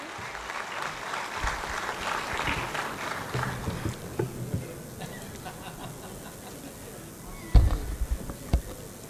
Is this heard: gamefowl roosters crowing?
no